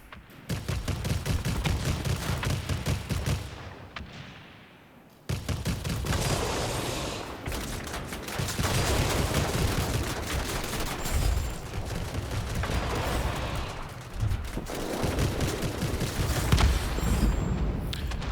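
Hawker Hunter jet cannons in a flight combat video game roar in long sustained bursts of rapid gunfire, loud and close, with one brief pause before firing resumes.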